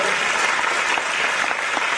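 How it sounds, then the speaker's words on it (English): An audience claps for the co-chairs at a school Grandparent's Day event, a close, loud, even burst of many hands that runs throughout without any voices. "Let's give them a wonderful round of applause."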